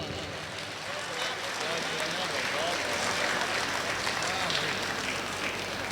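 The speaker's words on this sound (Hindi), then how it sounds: "ज़ोरदार तालियों से इस्तकबाल करें भाई इकबाल अशर।" An audience at an international Urdu mushaira in Muscat, Oman applauds steadily in a welcome, a continuous wash of clapping with a faint murmur of voices underneath.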